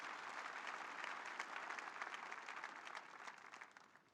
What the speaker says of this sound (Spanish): Vamos a aplaudir a Jesús.